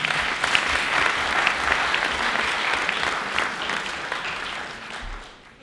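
Sustained, dense applause fills a hall at the 2022 French national debate championship as a debater is called to speak, holding steady before tapering off near the end.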